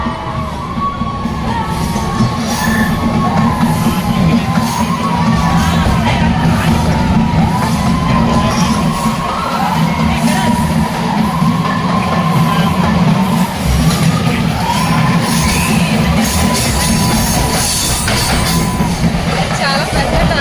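Passengers on the Vizag–Araku train whoop and shout as it enters a long tunnel, loud crowd cheering over a constant low rumble of the moving train that runs throughout.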